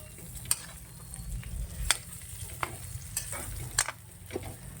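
Garlic fries with pork adobo in a pan, a soft, quiet sizzle broken by sharp intermittent clicks and scrapes of a utensil against the pan.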